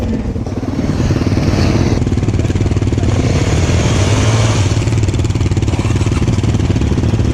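A loud engine runs continuously close by on a muddy, snowy mountain climb, revving and roaring under the throttle with a rattling, buzzing drone, and no voices are heard.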